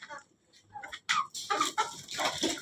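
Hens cluck and squawk in short, irregular bursts from nearby as lentils are put out for them at a home, with scattered noisy movement between the calls.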